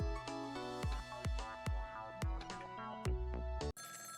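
Telephone ringing in the video game Ghost Trick: a repeating electronic ring with sharp, evenly spaced bursts about every half second, loud and alone, cut off near the end.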